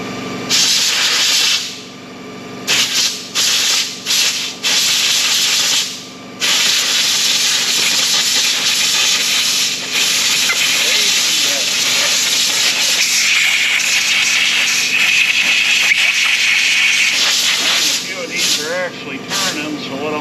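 Compressed air blasts fine gritty dirt out of rotating parts during winter maintenance, a loud close hissing rush with brief gaps early on, then continuous blowing with voices talking beneath.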